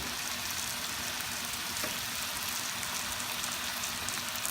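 Shrimp and squid fry in a pan with a steady, even sizzle like light rain, a continuous moderate hiss with one faint knock partway through and no voices.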